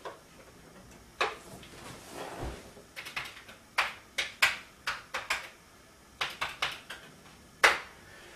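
A Commodore 64 floppy drive loads The Last Ninja 2, giving sparse, sharp mechanical clicks and ticks at irregular intervals against near silence.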